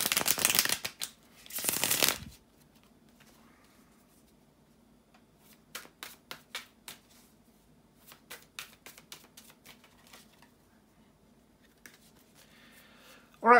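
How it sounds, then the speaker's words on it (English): Two bursts of tarot cards being riffled and shuffled, followed by a series of soft taps and snaps as the deck is squared and handled, near and quiet. "bear with me a second, guys, to shuffle the tarot cards"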